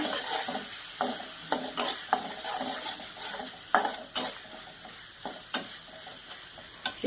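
Spoons of coriander powder, cumin powder, salt, chilli powder and turmeric are stirred in a pan for brinjal curry, giving a steady scraping with sharp spoon clicks against the metal and a soft sizzle underneath, close and without talk.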